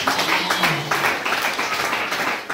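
Church congregation clapping during a sermon, a brisk rhythmic burst of many hands, fairly loud and close, with a voice faintly mixed in beneath the claps.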